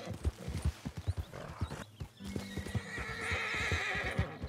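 Horse hooves clip-clopping in a steady rhythm close by, joined by a loud neigh and whinny partway through, with rumbling and faint background voices.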